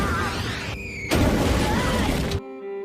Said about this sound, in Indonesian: Enishi menyuruh orang yang bernama Kujiranami untuk meluncurkan tembakan meriam